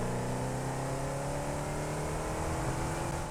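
A tractor drives in the factory-building video game Satisfactory, giving a steady, unbroken motor hum at an even, moderate level with no pauses.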